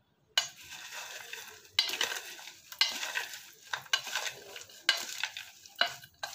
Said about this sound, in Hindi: अब इसमें डालते हैं मूंगफली और बादाम, किशमिश, बारीक कटे हुए नारियल और आपस में इसे मिक्स कर लेते हैं